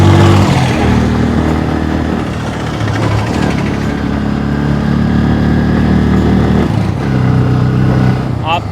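A Bajaj Pulsar N160 motorcycle engine drones steadily while riding through second and third gear, a continuous loud hum mixed with road and wind rush, without a break.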